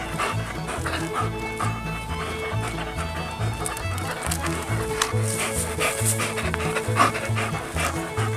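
A German Shepherd pants rhythmically and steadily on an outdoor walk, close up, the quick breaths repeating evenly throughout with faint background movement.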